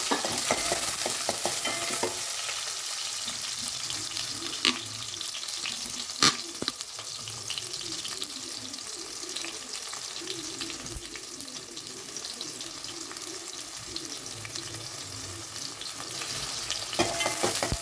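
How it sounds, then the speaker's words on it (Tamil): Around twenty halved shallots sauté in a pan with a steady, close sizzle and occasional stirring scrapes and clinks, with no voices throughout. "நான் ஒரு 20 சின்ன வெங்காயத்தை 2 கட் பண்ணி எடுத்துருக்கேன். முழுசா போட்டுக்கிறேன். நல்லா வதக்கிடுங்க."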